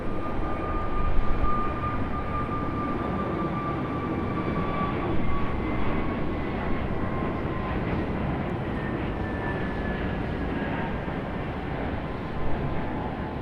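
Airbus A321neo jet taking off at Raleigh-Durham International Airport, a steady, continuous engine roar held at fairly constant loudness, with high whining tones drifting slowly downward over its length.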